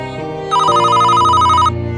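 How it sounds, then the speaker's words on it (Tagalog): Mobile phone ringtone for an incoming call, a loud electronic melody with steady pulsing tones, heard alone with no voices. "Ay, saglit, tumatawag mama ko."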